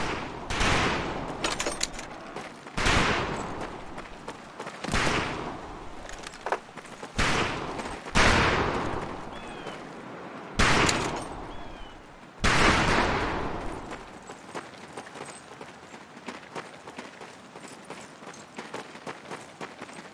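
Rifle gunfire at a military shooting range in the World War II game Medal of Honor Pacific Assault: loud, sharp shots in an irregular volley that stops abruptly, leaving a quieter background.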